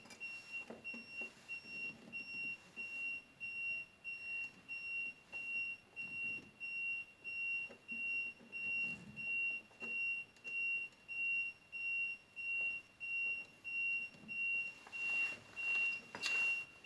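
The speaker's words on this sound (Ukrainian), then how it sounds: "І розігріто і пікає котел" A heated boiler gives a steady high-pitched electronic beep repeating in a regular rhythm, fairly quiet, with faint background noise and no talking.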